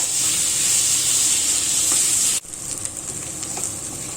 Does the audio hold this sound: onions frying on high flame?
yes